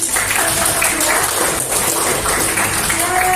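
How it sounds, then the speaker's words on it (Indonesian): Steady applause from a classroom group fills the whole stretch, a dense continuous wash of clapping with some voices mixed in. "Oke, tepuk tangan dulu."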